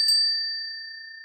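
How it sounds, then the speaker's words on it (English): A single clear strike of a small feng shui bell, a bright ding whose pure ringing tone lingers and slowly fades, heard alone. "This is the moment to ring my lovely feng shui bell."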